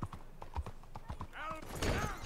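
Horse hooves clip-clop in Red Dead Redemption 2, a quick near rhythm of hoofbeats with a whinny-like tone near the end, under ongoing talk.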